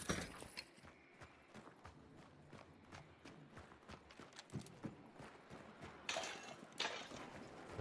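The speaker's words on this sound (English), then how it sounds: "I do hear horses and stuff off in the distance though" Horse hooves clip-clop at a steady trot, faint and distant in a video game, mixed with soft game-world clatter and a few louder rustling bursts.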